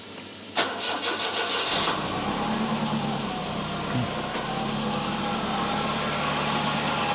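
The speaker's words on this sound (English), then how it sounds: "and also I want to fire up the car." A hot car on a gas-analyzer test setup cranks briefly and fires up, then settles into a steady close idle with a low rumble that continues to the end.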